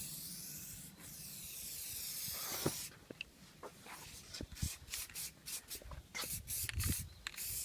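A spray can applies dip coating to a Mustang GT, its hiss starting faint and then coming in repeated close bursts separated by short pauses, with occasional handling clicks and no talking.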